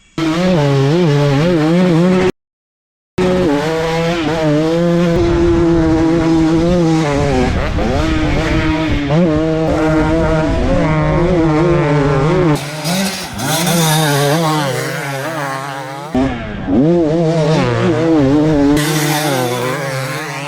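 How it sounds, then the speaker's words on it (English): Two-stroke motorcycles scream at full throttle, a loud, close, buzzing engine wail that rises and falls through gear changes and throttle bursts, with a brief cut to silence near the start and shifting tones as the bikes pass. "No, all gas, no brakes, Mike"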